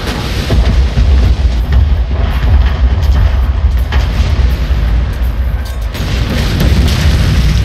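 Massed cannon artillery volleys in Total War: Shogun 2, Joseon versus Chinese armies, fire as a loud, continuous rolling boom of overlapping blasts with heavy low rumble that never lets up.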